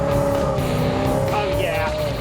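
A Dodge Coronet racing hard in the rain at speeds near 130 mph: a loud, continuous engine roar with rising tire squeal toward the end, close and without talk.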